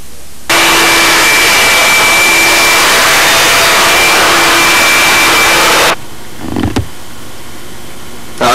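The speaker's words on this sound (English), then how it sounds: "I always try to vacuum up and clean up." A shop vacuum cleans up fiberglass sanding dust in a model-building workshop, a loud steady roaring whine running for several seconds before cutting off abruptly, followed by a few faint clunks.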